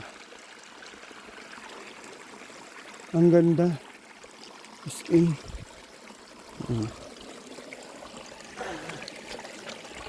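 Steady broadband rush of a cold mountain stream flowing in Fiss, Tyrol, Austria runs throughout, with people speaking briefly over it midway.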